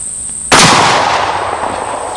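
A single loud, close 12 gauge shotgun blast fired at a target across a room, a sharp broadband crack with a short decaying tail and a steady high tone in the background.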